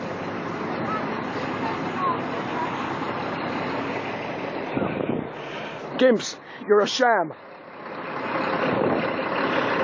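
A truck without a rear number plate idles and drives at a protest site, its engine droning under shouted talk, and a short run of rising reversing beeps sounds near the middle before the engine noise swells again.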